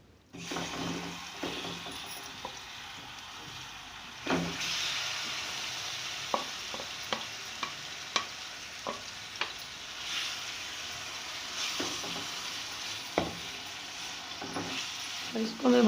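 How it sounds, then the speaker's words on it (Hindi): Marinated chicken hits hot oil in a karahi for Bihari chicken karahi, bursting into a loud sizzle that continues steadily, broken by repeated sharp clinks and scrapes of a spoon stirring, with faint voice in the background. "और अब उसमें ये मैरिनेट किए हुए चिकन में डाल दूँगी"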